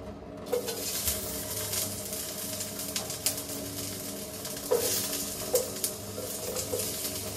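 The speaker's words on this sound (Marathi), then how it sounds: "तर आता फोडणी देऊया कांदा आणि" Onion and tomato tempering frying in hot oil in a home kitchen pan, with a steady sizzle and occasional sharp clinks of stirring, close and continuous, with no talking.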